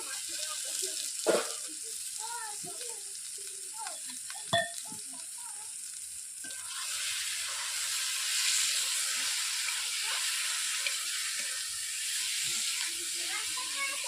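Potatoes and eggs frying in spiced oil for a Bengali egg and potato curry give a steady sizzle and hiss throughout. A couple of sharp knocks come early, and the frying grows a little louder midway.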